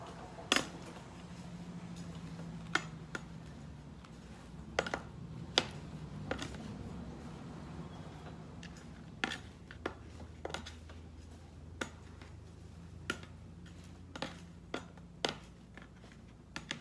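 A heavy spoon tamps kitchen scraps down in a bokashi container, giving quiet scattered clinks and sharp knocks at irregular intervals over a soft background.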